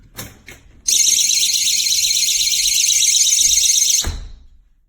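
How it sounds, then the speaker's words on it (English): A GE personal security window and door alarm blares a loud, piercing, continuous electronic siren for about three seconds after a couple of faint knocks, then cuts off with a low thud, close by and without talk. "That's the alarm that I'm gonna put on"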